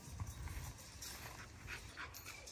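A puppy pants softly and quickly nearby in a quiet setting, faint rapid breaths with a few light scuffling movements.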